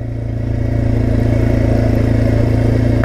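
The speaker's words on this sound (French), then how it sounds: "c'est ici que je fais mes tests de frein moteur s'il y a lieu" Kymco Maxxer 450i ATV engine braking while rolling downhill, a loud, steady low engine drone with a rapid pulsing beat that builds slightly at first, then holds even and close with no talk.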